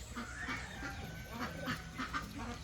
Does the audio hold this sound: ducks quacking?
yes